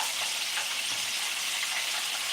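Chicken pieces for General Tso's chicken sizzle steadily in hot oil while being stirred, a dense, even crackle with soft scraping bumps from the stirring.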